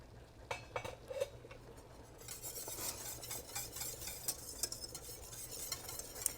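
A whisk stirring a thickening macaroni cheese sauce in a pot, soft repeated scraping and clinks against the pan, quiet and close with no talking.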